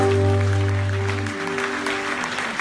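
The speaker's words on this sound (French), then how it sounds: "applaudis avec foi." A church congregation at a worship convention claps in a fairly brief burst beneath a sustained low musical drone that cuts out partway through.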